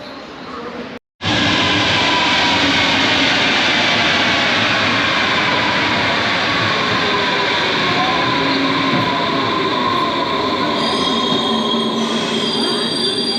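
A loud, continuous roar of a Berlin metro train arriving on rails fills the space, with squealing wheels and a high screech toward the end.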